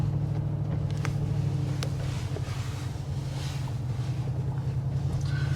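A steady low engine drone from a 740 hp Mercedes G63 AMG with audible exhaust runs throughout, with a continuous rumble and wind buffeting, recorded from inside or beside the moving vehicle on the road.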